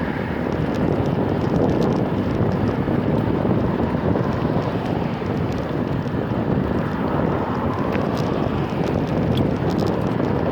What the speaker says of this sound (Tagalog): Malakas ang hangin ngayong araw.